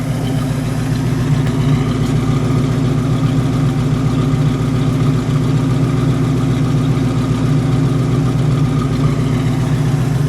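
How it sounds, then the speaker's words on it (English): A 1965 Sunbeam Tiger MK I roadster engine idles steadily, a loud, deep rumbling exhaust drone with an even pulsing rhythm and no talking. "Let me get a little exhaust from an idle."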